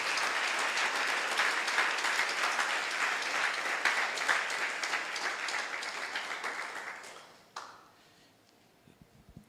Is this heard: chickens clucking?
no